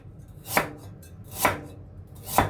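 Three slow, evenly spaced knife chops cut through galangal on a board, each one a crisp thud in a quiet kitchen.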